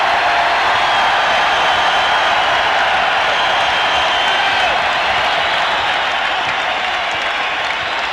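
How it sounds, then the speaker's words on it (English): Arena crowd at a 1994 NBA playoff basketball game roars on its feet as the home team brings the ball up for the last shot of the half, a loud continuous wall of cheering and noise. "Listen to this crowd. They're up on their feet."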